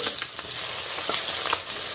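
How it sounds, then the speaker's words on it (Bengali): Pieces of rohu fish fry in hot oil for a Bengali fish curry, giving a loud, continuous close-up sizzle with a few crackling pops and no voices. "মাছটা ভেজে ফিরে আসছি মাছগুলো কিন্তু লাল লাল করে আমি ভেজে নিয়েছি"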